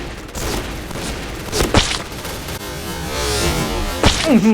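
Shotgun blasts in a first-person shooter video game from an M1887 lever-action shotgun, heavy booming shots amid continuous gunfire and battle noise, with a couple of sharp louder reports standing out.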